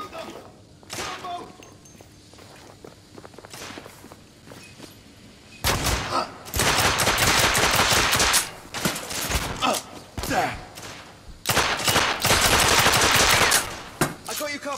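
Gunfire in The Order: 1886, loud bursts of automatic and single shots crackling in dense volleys from midway on, after a quieter opening with scattered distant shots and voices.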